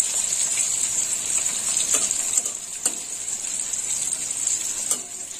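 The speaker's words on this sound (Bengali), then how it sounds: "বেশি ভাজা হবে না, অল্প ভাজা হবে" Sliced bitter gourd frying in oil in a pan, a loud steady hiss and sizzle with a few light stirring scrapes, no talking.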